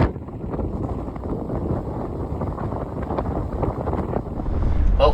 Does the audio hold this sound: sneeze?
no